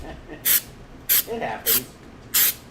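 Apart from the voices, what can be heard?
spray can lightly spraying a resin tumbler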